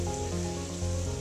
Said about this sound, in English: we're going to sear off the leftover short ribs